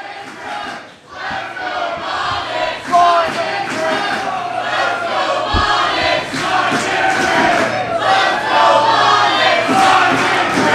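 A crowd at a Zelo Pro independent wrestling match roars and chants continuously, dense massed voices swelling loud and sustained around the ring.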